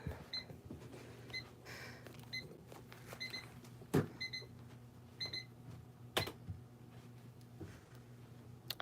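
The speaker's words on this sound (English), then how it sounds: "I have a little alarm clock that I used to use when I had school and stuff, but it just randomly goes off" A small old alarm clock going off on its own indoors, repeated short electronic beeps in uneven bursts over a low steady hum, with occasional louder clicks and knocks nearby.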